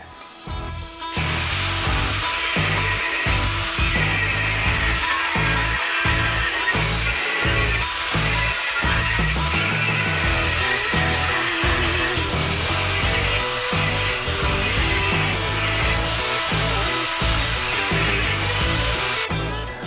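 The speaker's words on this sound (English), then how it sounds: "I'll clean that up with a flap disc, once again, not to gouge it into the chassis because it's structural" Flap disc grinding on a car's structural chassis, a loud continuous abrasive whine held steadily close up for nearly the whole stretch, with no talk over it.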